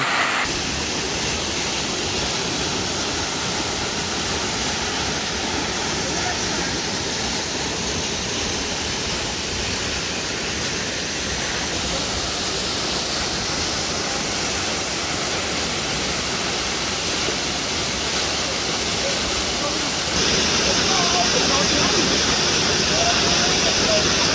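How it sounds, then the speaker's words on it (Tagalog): Abungan Falls in Dingalan, Aurora roars as a constant broadband wash of falling water, steady and close throughout, growing slightly louder near the end. "nandito lang tayo ngayon sa Abungan Falls, dito sa Dingalan, Aurora."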